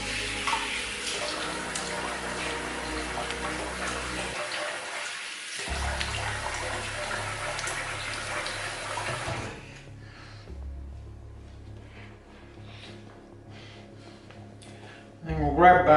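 Tap water runs steadily while a razor is rinsed under it, a continuous splashing hiss that stops partway, followed by quieter handling sounds and a brief louder noise at the end.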